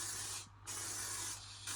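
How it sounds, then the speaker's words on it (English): Bursts of spray paint hissing from a rattle can onto a DIY guitar kit body, two steady sprays split by a brief pause, close and clear with no talking. "I'll spray my arm again, look."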